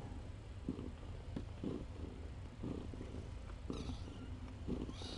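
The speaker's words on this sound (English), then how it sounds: "You can hear her non-stop purr." A soft, steady cat purr rumbles close by, with faint breathy pulses repeating through the quiet background.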